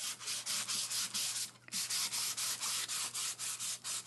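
Rhythmic back-and-forth sanding strokes rasp against a lacquered sample board, steady and close, with one brief pause in the middle.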